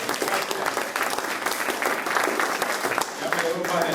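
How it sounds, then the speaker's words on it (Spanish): Congregation applause at a church teaching service on the Holy Trinity, steady dense clapping filling the room across the whole stretch, fairly loud and continuous, with voices mixed in underneath. "Un aplauso para el brother."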